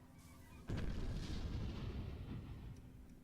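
An enemy super weapon fires in a space strategy game: a sudden heavy boom lands just under a second in, then a dense rumbling roar that slowly fades over a few seconds.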